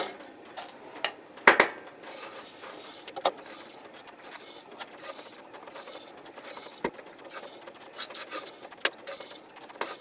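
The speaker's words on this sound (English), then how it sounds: "Now, scoop this salt out of there." Harvested sea salt is scooped and scraped, giving scattered crunchy scratches and a few sharp clinks, close and fairly quiet, with no talking.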